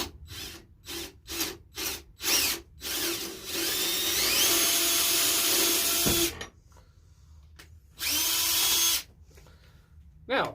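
A handheld power drill bores a hole for a homemade trip wire, starting with several short revving bursts, then a long steady whine, a pause, and another sustained burst, all close and loud.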